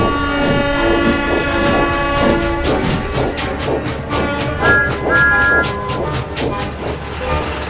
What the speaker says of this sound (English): The harbour was busy and noisy. Engines were puffing in and out non-stop.